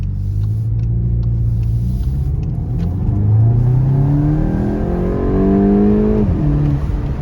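A Volkswagen Golf 8 GTI in sport mode accelerates hard, engine rumble climbing steadily in pitch through the gear, then dropping at a shift before pulling again, loud and close from the cabin.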